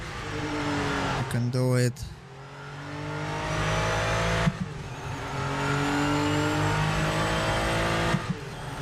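An old historic Porsche in a racing video game revs hard, its engine note climbing in sweeps with a brief sharp rise near the start, loud and continuous while someone speaks briefly.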